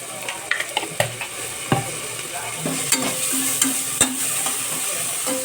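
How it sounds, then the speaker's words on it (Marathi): Chili powder and turmeric are sautéed in a pan with rice for pea rice, making a soft continuous sizzle. Sharp spatula clicks and scrapes against the pan repeat throughout. "थोडंसं आपण याला परतून घेऊया"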